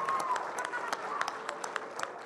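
Scattered audience applause at a school talent show, a crowd clapping steadily with sharp individual claps standing out, close and moderately loud, with voices mixed in underneath.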